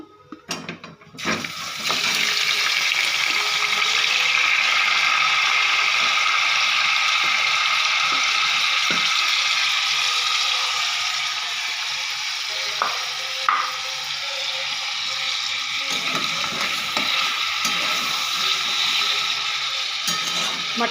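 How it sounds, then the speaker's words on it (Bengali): Boiled mutton is dropped into a hot pan of oil with whole spices, including a large cardamom, setting off a loud, close, continuous sizzle after a brief clatter, with occasional stirring scrapes. "এবারে আমি এতে সেদ্ধ করা মাটনটা দিয়ে দেবো।"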